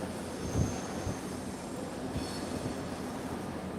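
A passing train gives a low, steady rumble with a few soft thumps and a faint high whine; it stays moderately loud and even, with no voices.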